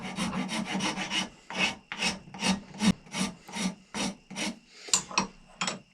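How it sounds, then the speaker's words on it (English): A rasp files a powder horn to taper it, making about a dozen rhythmic back-and-forth strokes of dry, scratchy rubbing, close and distinct with short gaps between each pass. "I'm still going to be using the rasp part"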